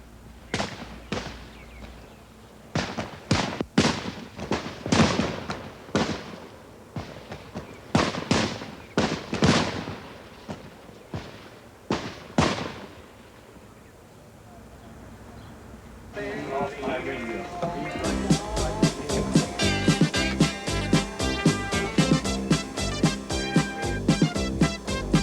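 Rifle shots fired on a basic training qualification range at Fort Leonard Wood, a rapid series of sharp loud reports in irregular bursts, followed by a denser stretch of music-like sound.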